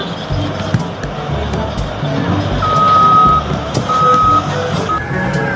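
A toy sand truck gives out steady reversing beeps, two clear electronic tones repeating over a busy, noisy background with rolling rumble.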